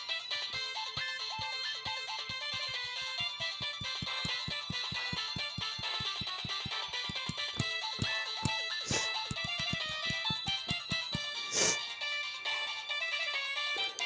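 A Samsung SGH-X450 mobile phone ringtone plays alone, a bright, busy electronic melody with steady rapid pulses running throughout, loud and close, with a couple of sharp accents near the end.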